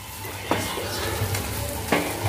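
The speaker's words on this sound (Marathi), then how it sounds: "रवा आपल्याला बेसन मध्ये व्यवस्थित मिक्स करून घ्यायचा आहे।" Semolina is stirred into gram flour and ghee for besan barfi. It sounds like a continuous soft sizzle with two distinct scraping knocks of the spoon against the pan, close by.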